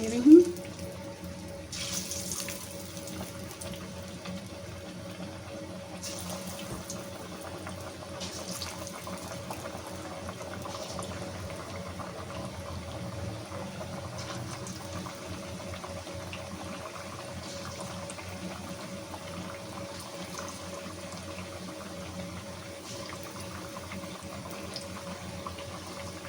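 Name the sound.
potato chip pakoras frying in oil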